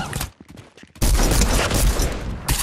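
Gunfire in the video game Fortnite: after a few short scattered sounds, a loud, dense burst of rapid shots erupts and keeps going for over a second, near and sharp, ending with another crack.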